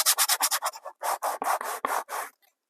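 Sandpaper rubs along the edge of an altered book cover in a quick series of rhythmic scraping strokes, about a dozen close raspy passes that stop abruptly, with no talk.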